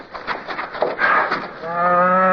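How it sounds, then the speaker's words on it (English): A cow moos loudly and close by, a drawn-out bellowing call that rises into a sustained tonal low at the end. "It's a cow."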